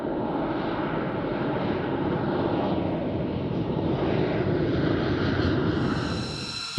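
A B-2 Spirit flying wing bomber passes overhead with a loud, steady broadband engine roar that holds throughout before easing slightly at the end.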